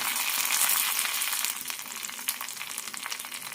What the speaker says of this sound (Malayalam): തേങ്ങ നല്ല ചുവക്കനെ വറുത്തെടുക്കണം